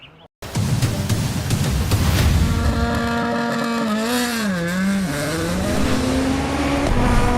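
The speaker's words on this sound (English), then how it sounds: "Ford Puma Hybrid. It's a Rally 1 car built by the M Sport Ford Rally team" A Ford Puma Hybrid Rally 1 car built by M-Sport for the World Rally Championship roars loudly and steadily, its engine pitch rising, dipping and climbing again through gear changes after a brief quiet start.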